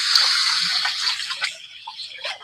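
Water drains from a wash basin during dishwashing, a continuous bright trickling hiss that breaks into gurgling splashes toward the end.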